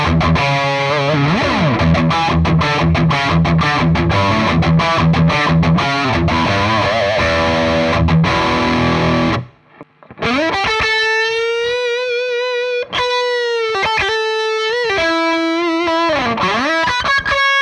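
Ibanez RG421HPFM electric guitar played through a high-gain PV6505+ amp tone, heavily distorted chugging riffs followed by a short pause and sustained, ringing distorted notes and bends, loud and close.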